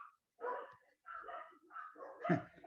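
An old pet dog barks a few times in a room during an online maths class, muffled woofs and yips in short bursts, fairly close, with no talk.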